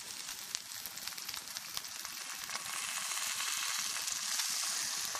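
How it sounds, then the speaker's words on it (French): Shallots sizzle steadily in a hot pan as white wine is poured in to deglaze, a dense close crackling hiss that grows slightly louder and fuller partway through, with no voices. "Vous prenez un peu de vin blanc. Et là, on va déglacer."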